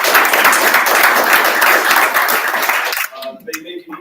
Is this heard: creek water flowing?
no